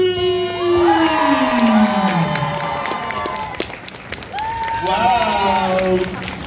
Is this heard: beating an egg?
no